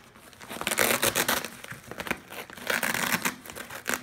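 Mylar bags holding the stabilizers and wings of a Legacy Aviation Muscle Bipe 85-inch model plane are handled up close, with bursts of crisp crinkling and rustling.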